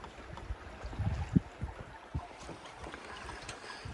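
A sailboat glides slowly, wing on wing in light wind of about 7 to 8 knots, with soft water lapping against the hull, gentle wind rush over the microphone, and a few faint knocks on board.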